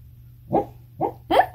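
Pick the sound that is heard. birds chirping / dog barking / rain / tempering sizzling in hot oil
dog barking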